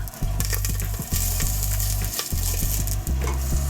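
Onions and parsley frying in olive oil in a pan, a loud continuous sizzle broken by repeated knocks and scrapes of stirring every second or so, heard up close with no talk.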